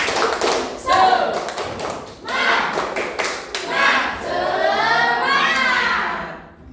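A group claps in rhythmic bursts, fairly loud and close, mixed with children's voices chanting and shouting along.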